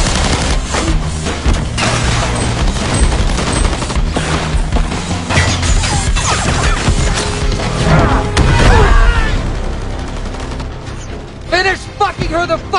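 Dense gunfire volley in a movie fight scene: rapid overlapping shots and mechanical clatter that build to a loud crashing peak, then thin into scattered bangs.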